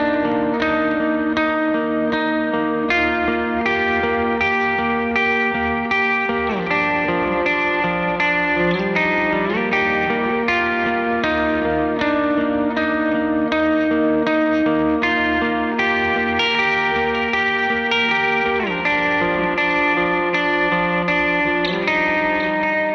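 Mercury X pedal running its Oct-Shim plate reverb preset: sustained chordal guitar-like tones washing into a bright, shimmering octave tail that hangs continuously and loud for the whole stretch, no voices.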